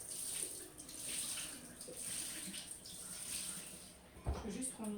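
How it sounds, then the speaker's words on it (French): Running water rinsing during a facial skincare routine, a soft steady tap-like flow close by, with a brief clunk and a voice speaking near the end. "On va juste le rincer."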